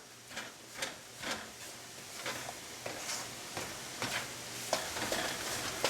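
Flour roasting in a pan is stirred continuously, giving a soft sizzle under repeated scraping strokes, roughly two per second, close and fairly quiet, with no talk.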